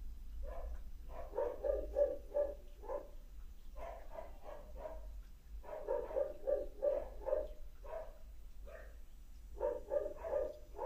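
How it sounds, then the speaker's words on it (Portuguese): Several dogs bark repeatedly in bursts while being fed, a steady rhythm of overlapping barks with short pauses between volleys, moderately close, over a low background hum. "Os externos estão latindo porque estão sendo alimentados."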